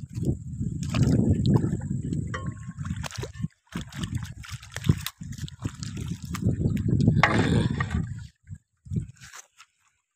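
Irrigation water trickles and gurgles into seedling furrows on a farm plot, close and uneven, with brief pauses and a few faint background sounds.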